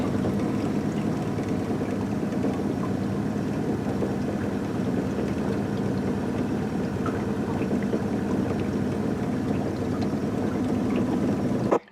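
A steady, droning motorboat engine runs continuously at close range, a low rumbling hum with a wash of water noise and no speech.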